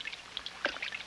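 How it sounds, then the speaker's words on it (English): Water sputtering and splashing from Mr. Curry's very old, leaking lead pipes, a short, faint burst of irregular trickling and dribbling. "Paddington had managed to get Mr. Curry's water flowing again"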